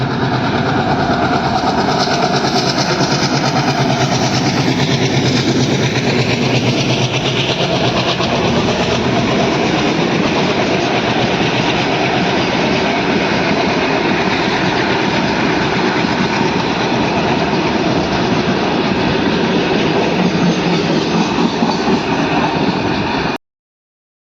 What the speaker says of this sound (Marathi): आपली फायनली रेल्वे आलेली आहे बघा